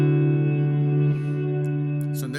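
An electric guitar chord sustains through a Strymon BigSky reverb on its cloud setting, with high decay and mix, a smooth, steady wash of harmonic tone ringing close and alone, swelling slightly then softening, with a few faint higher shimmers near the end.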